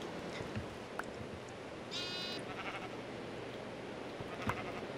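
A Minecraft sheep bleats briefly with a wavering, nasal call over a constant noisy background, with a few faint clicks and thuds around it.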